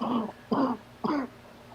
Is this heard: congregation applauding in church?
no